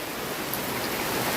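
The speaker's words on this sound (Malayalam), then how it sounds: "അപ്പോൾ ഇവിടെ നല്ല മഴയാണ്" Heavy rain pours down in a dense, steady roar of broadband hiss that stays even and unbroken throughout.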